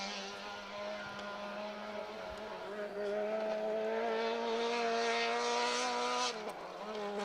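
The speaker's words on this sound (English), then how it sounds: "Very, very loud. Vauxhall Corsa. I think somebody has a broken exhaust." Vauxhall Corsa rally car with a broken exhaust passing on a forest rally stage, a loud rasping engine note rising in pitch as it approaches and fades, with a faint voice underneath.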